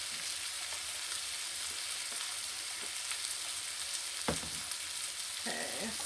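Cajun sausage sizzling steadily in a skillet with smoked paprika, a continuous close frying hiss broken by a couple of brief stirring scrapes near the end.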